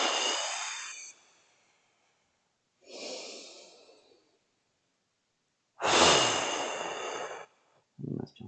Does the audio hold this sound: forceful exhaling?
yes